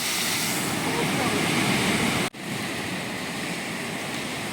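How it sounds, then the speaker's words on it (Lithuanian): Ocean surf pounds the lava rock coast at Ponta da Ferraria, a loud, continuous roar of breaking water and spray close by, with a brief sharp dropout midway before the steady rush resumes. "Ką tik pakrikštino, gavom purslų, bangai iki čia šovė."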